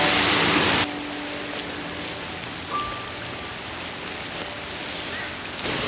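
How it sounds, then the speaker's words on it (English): Rain falls steadily at Scrubby Creek in Logan City, a dense even hiss from start to finish, a little louder in the first second, with no voices. "it'll certainly show you what Scrubby will be like in a bit of rain"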